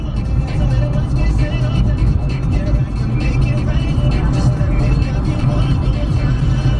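Cars move in and out of a car park, their engines rumbling close by in a steady, low drone.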